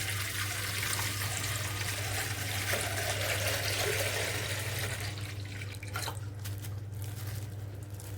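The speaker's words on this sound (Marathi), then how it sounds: "दूध ह्याच्यात ओतायचं आहे" Milk pours steadily into a pot in a continuous, smooth rushing flow that eases slightly toward the end.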